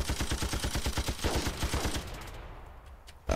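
Machine gun fire in the video game Ravenfield: a fast, even run of loud, close shots for about two seconds, then it stops and quiet background follows.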